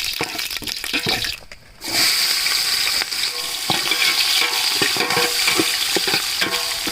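Whole spices such as fennel, cinnamon, star anise and bay leaf, along with coriander, sizzle in hot oil for egg biryani, a steady bright frying hiss with occasional stirring clicks, briefly dipping before resuming loud and close.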